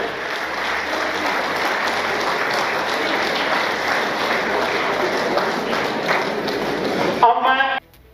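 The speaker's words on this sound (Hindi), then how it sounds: "कृपया तालियां बजाएं, उनके तालियों के साथ स्वागत करें" A seated crowd at a Kargil Vijay Diwas memorial event claps to welcome a guest, a dense, sustained round of applause that ends abruptly, with an announcer's voice heard over it.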